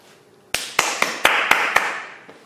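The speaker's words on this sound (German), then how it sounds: "Applaus, Applaus." Seven sharp, evenly spaced claps ring out in a quick steady rhythm, loud and close with a short echo after each, then stop; no one talks.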